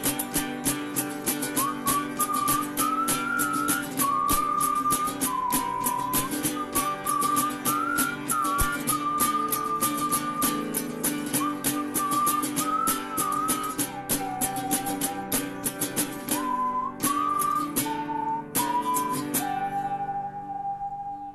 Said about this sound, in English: I'll just smile and whistle this tune